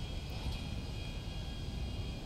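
A video game airplane engine drones steadily throughout, a broad constant roar with a faint high whine, with no speech over it.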